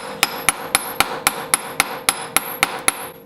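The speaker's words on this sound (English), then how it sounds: "And then I tap it with a hammer to make sure it's in there good." A hammer taps a metal socket onto a bolt ten times in an even, steady rhythm, each strike sharp, close and ringing briefly, during an engine swap on a 1980 VW Rabbit.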